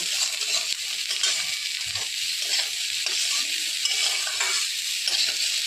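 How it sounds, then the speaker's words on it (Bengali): Spices sizzle steadily as they fry in hot ghee with salt for mixed fried rice, a constant hissing crackle with light stirring throughout and no talking. "আর ঘি দিয়ে ভাজছি।"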